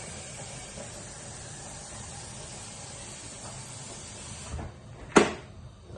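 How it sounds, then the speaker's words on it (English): An electric kettle heating water toward a boil gives a steady close hiss and rumble, ending in a sharp click and clatter. "Meanwhile the kettle boil."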